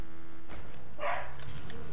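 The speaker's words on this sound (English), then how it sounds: "Darla, stop barking! Stop it!" A dog barks once, sharp and close, in the middle of a noisy room with a low hum and some murmuring underneath.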